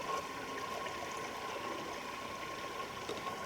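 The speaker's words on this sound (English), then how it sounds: "Listen to the water." A water stream flowing in a forest, a faint and steady broadband rush with no breaks, heard alone without voices.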